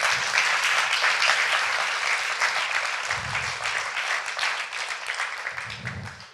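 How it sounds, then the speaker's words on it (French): A crowd claps and applauds steadily for several seconds, dense and loud, fading slightly toward the end. "On peut les applaudir encore."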